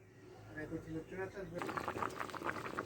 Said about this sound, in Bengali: এভাবে 2 মিনিট ফুটবে।